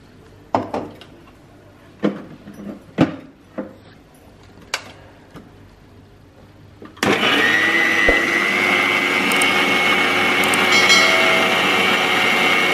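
Several sharp knocks and taps come first, then a kitchen blender starts up loudly nearby, grinding a thick cooking paste for a crab curry in a steady, whining roar that runs to the end.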